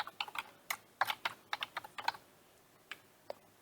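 Keys clack on a computer keyboard while a project name is typed into PyCharm, a quick irregular burst of close, light taps followed by a pause and a few isolated strokes.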